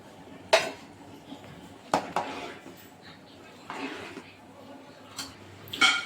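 Metal clinks and scrapes of a spoon against a pot as fried cashews and raisins are mixed into moong dal payasam, a few sharp knocks spread over quiet background with a voice talking.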